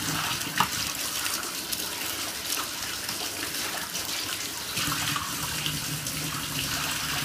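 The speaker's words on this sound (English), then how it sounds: "I'm gonna turn on the water and rinse my stuff." Tap water runs steadily into a bath while bath products are being rinsed, a continuous close gushing splash that holds at an even level throughout with no talking.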